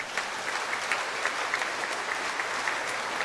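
Church congregation applauding warmly during a homily, a short burst of dense clapping from many hands, steady and fairly close.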